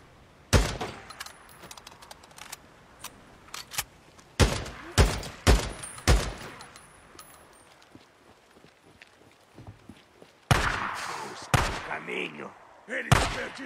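Gunfire in a zombie apocalypse video game: sharp shots go off singly and in quick clusters, some close and loud, over quieter footsteps and movement sounds.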